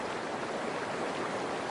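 A trickling creek in the hills of eastern Mpumalanga, South Africa, gives a steady broadband wash of running water, continuous and fairly loud with no voices.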